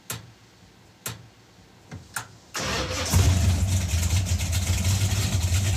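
A Hemi V8 in an AMC Gremlin fires up after a few sharp clicks and short cranking bursts, catching suddenly into a loud, rumbling, lopey idle that holds steady up close, with no voices.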